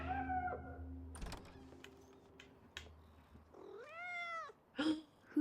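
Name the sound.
cat meowing in video game Life is Strange: Double Exposure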